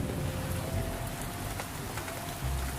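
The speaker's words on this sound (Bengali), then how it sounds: "এত জোরে বৃষ্টি পড়ছে" Heavy rain in a storm pours down as a dense, steady patter of drops on surfaces, close and continuous, with no voices.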